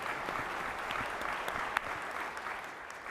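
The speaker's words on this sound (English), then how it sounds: "give yourselves a round of applause for appearing here now" A large audience at a Bitcoin conference applauds, steady dense clapping spread across the hall, moderately loud and sustained for the whole stretch with no voices standing out.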